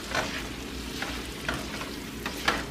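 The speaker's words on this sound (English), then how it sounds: "You can hear it sizzling." Steady sizzling and crackling of bacon and pasta frying in bacon fat in a skillet, with soft periodic scraping from stirring every half second or so.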